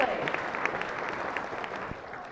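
Audience clapping in unison at a charity auction during an Attitude of Gratitude fundraiser, a sustained patter of many hands close by with scattered voices mixed in.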